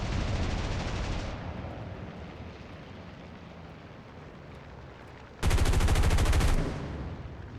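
Aircraft gunfire in the War Thunder flight combat game: loud, dense continuous bursts at first, then a quieter rumbling stretch, followed by another sharp, intense burst of fire near the end.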